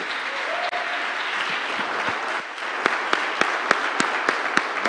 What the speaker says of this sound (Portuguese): Salva de palmas, Felipe.